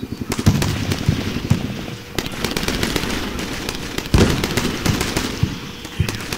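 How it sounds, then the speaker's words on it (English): In the Combat Mission: Shock Force war game, RPGs, rockets and grenade launchers fire in a dense, loud barrage of sharp bangs and crackling blasts, overlapping in rapid irregular bursts throughout, with no speech. "They're just flooding the windows with RPGs, rockets, grenade launchers."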